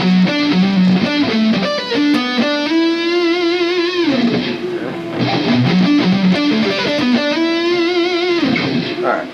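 Distorted electric guitar playing the first solo of a song slowly, a run of sustained and bending lead notes repeated twice, loud and close, with no talk.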